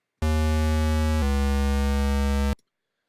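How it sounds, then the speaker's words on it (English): Repro-1 monophonic synthesizer bass set to square waves, a hollow buzzy tone playing two sustained notes in a row, the second slightly higher, loud and steady before stopping cleanly. "I'm never really a fan of that hollow square sound."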